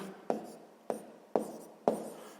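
Pen or chalk strokes mark out a sixth-grade math solution, four distinct sharp scratching taps spaced evenly about half a second apart, close and fairly quiet with no talk.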